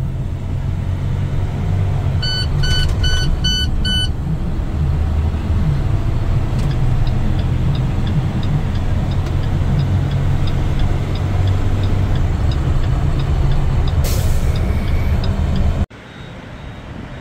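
A car drives onto the freeway with a loud, steady engine and road rumble from inside the cabin, a turn-signal-like ticking clicking early on, then a sudden drop to a quieter hum near the end.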